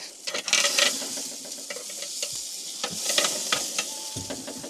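Wagyu ribeye steaks frying over a campfire on Fraser Island, a loud close sizzle with bursts of hissing spatter as the meat is turned, scraped and moved in the pan.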